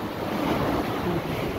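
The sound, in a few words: strong ocean waves at Sombrero Island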